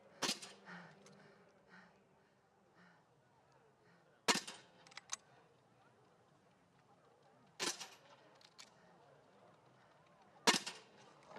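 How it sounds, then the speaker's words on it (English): Four sharp rifle cracks ring out at spaced intervals at a biathlon shooting range during a Para Biathlon 12km standing race, each a brief, loud snap over a quiet outdoor background. "Bui, the middle distance gold medalist, will shoot again."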